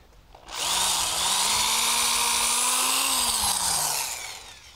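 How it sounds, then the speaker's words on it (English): A power drill whirs loudly and steadily as it bores a pilot hole into an old wooden porch post outdoors, spinning up abruptly, holding a constant whine for a few seconds, then winding down. "drilling straight down into the wood"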